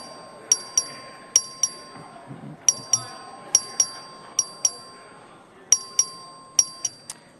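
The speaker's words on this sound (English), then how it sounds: "The clerk will ring the bell." A voting bell rings repeatedly in the Texas House chamber during a record vote, sharp, bright dings mostly in quick pairs, steady and clear over a low murmur and a faint sustained tone.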